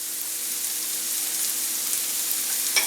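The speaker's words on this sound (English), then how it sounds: "I'm going to go ahead and add in all my diced peppers" Diced peppers hit a hot frying pan with onion and garlic, giving a steady, soft hiss of sizzling that holds evenly for a few seconds before a brief louder crackle at the end.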